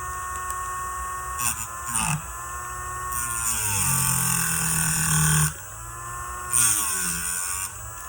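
A Dremel rotary tool grinds at an angle inside a wooden 1968 GTO Sport steering wheel, a loud steady whine with pitch sweeps that dips briefly twice as the bit catches and is lifted.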